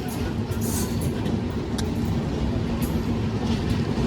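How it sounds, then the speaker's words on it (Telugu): The Tirupati–Kakinada express passenger train rumbles past at close range with a steady low drone and faint metallic squeals from the wheels. "సో ఈ ట్రైన్ వచ్చేసి తిరుపతి నుంచి కాకినాడ ఎక్స్ప్రెస్ అనమాట"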